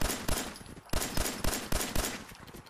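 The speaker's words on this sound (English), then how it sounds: "Wouldn't the sound of these gunshots be scaring the hell out of these dogs with their sensitive hearing?" Gunfire in the video game Fallout 4, several loud, sharp shots fired in quick bursts at close range, each one cracking out and then decaying before the next.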